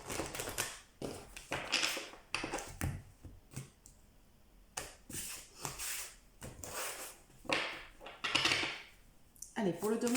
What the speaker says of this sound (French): Allez, je mélange un peu les cartes.